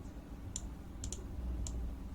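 Sparse, faint computer keyboard clicks while coding, a few isolated keystrokes scattered over quiet room noise with no talking.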